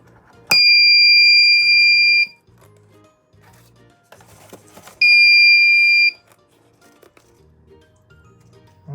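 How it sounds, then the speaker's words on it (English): A homemade cardboard intrusion alarm buzzer running on a 9-volt battery lets out two loud, piercing electronic tones, the first about two seconds long and the second shorter, with quiet handling noises between. "here is the alarm powered on, already connected"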